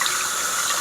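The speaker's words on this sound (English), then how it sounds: "Just a nice little stream of water there, and turns off nice and smooth, no dripping." Water runs from a newly installed bathroom faucet in a thin, steady stream, a close hissing splash into the sink lasting under a second.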